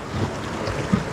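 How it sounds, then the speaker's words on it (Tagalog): Strong wind buffets the microphone at sea off Fujairah, a steady rushing roar with low gusty rumble and a brief thump near the end. "Kaso malakas yung hangin."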